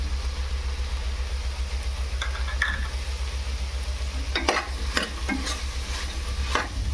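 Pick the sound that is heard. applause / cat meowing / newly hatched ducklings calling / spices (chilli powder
spices (chilli powder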